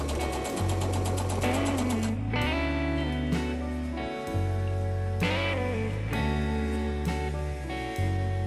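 A sewing machine stitches sail fabric pieces in repeated bursts of rapid mechanical whirring, each run starting and stopping several times, close and clear with no talk.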